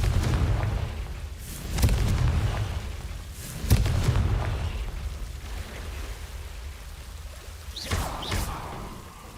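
Confringo fire spells bursting in Hogwarts Legacy, a few loud booming blasts spaced a couple of seconds apart over a low rumbling game backdrop.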